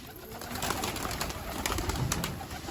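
Soft, steady cooing of Bango pigeons on a rooftop fills the background, low and continuous, with faint rustling and no voices.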